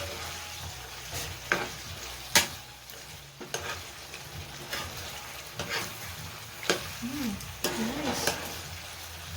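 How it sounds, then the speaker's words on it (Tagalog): Pork binagoongan sizzles in a pan while being stirred and frying, with scraping knocks of the spoon against the pan at irregular moments and a brief voice speaking over it. "Pwede na natin siyang haluin. At ipritos na natin siya ng konti."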